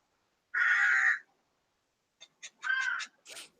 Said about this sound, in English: she can hear crows. Yeah, I'm afraid so. They're making a racket outside here.